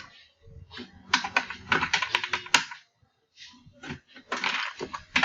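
A date of birth is typed on a computer keyboard, with quick bursts of clicking keystrokes, a short pause, then another run of typing, close and clear.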